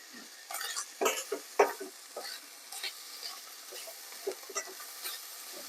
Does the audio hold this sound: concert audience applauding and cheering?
no